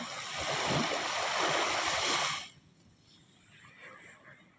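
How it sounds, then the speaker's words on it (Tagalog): A steady rush of river water fills the first couple of seconds, then drops away to a quieter, softer trickle and faint background sound. "ito na po kami sa ilog"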